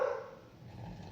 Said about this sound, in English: I let my dogs bark.